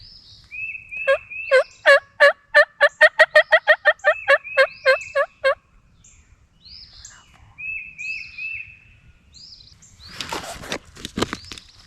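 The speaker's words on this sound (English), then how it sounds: "pretty quickly a gobbler responds" Wild turkey gobbler gobbling during a spring youth hunt, answering calls: a loud, rapid rattling gobble of about a dozen pulses, then softer clucking and yelps, with brushy rustling near the end.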